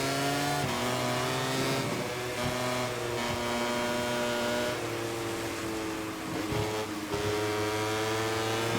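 An Aprilia racing motorcycle in MotoGP 24 on a rain-soaked Sachsenring circuit sounds as a steady, loud high-revving engine whine, pitch climbing and dropping through gear changes and corners, with no talk over it.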